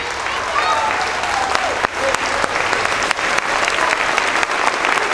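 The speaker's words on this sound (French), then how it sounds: "Je voudrais vous demander de vous lever, non pas pour nous applaudir à nous, mais pour applaudir tous les bénévoles" A festival opening-ceremony audience stands and applauds the volunteers: dense, loud, sustained clapping from a large crowd that fills the whole stretch evenly, with a few sharper individual claps standing out.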